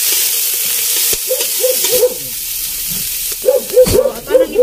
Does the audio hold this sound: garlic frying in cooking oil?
yes